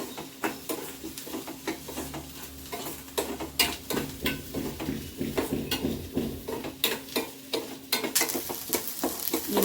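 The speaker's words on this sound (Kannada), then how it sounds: "ಈರುಳ್ಳಿ ಒಂದೇ ಫ್ರೈ ಮಾಡ್ಕೊತಿದ್ದೀನಿ" Onions fry in a hot pan while a spoon stirs them, sizzling steadily beneath repeated sharp scraping and clinking strokes.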